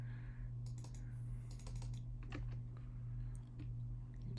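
A software engineer types on a computer keyboard, producing quiet, quick clicking keystrokes in uneven bursts over a steady low electrical hum.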